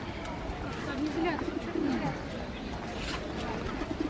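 Soft, throaty pigeon coos repeat a few times by a lake under a continuous wash of outdoor noise, with a person talking nearby.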